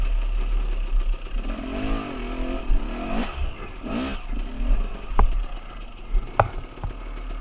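Motorcycle engine revving and lugging as the rider works over rough off-road terrain, loud and close throughout, with surging throttle bursts, sharp knocks and clatter from the bike hitting obstacles.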